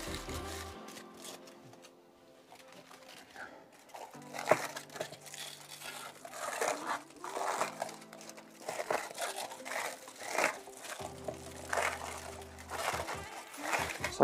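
Foil packaging crinkles and crackles in repeated bursts while a parcel is unwrapped up close, with a few sharp tearing moments and soft talk in between.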